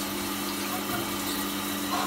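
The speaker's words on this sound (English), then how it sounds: "the water sprays out over what will be the grain in the mash tun." Hot liquor sprays from a sparge arm into a brewing mash tun, giving a steady, even hiss and rush of water with a constant low hum underneath, heard close and alone.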